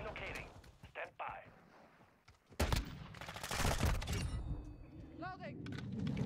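Call of Duty MW2 gunfire: a quiet stretch of scattered shots gives way to a loud, sustained burst of rapid automatic fire and chaotic battle noise, with a rising electronic game tone near the end.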